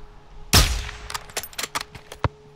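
A loud, sharp gunshot bursts out in the video game Call of Duty: Modern Warfare 2, followed by a rapid string of smaller shots and metallic clanks, with a final crack near the end.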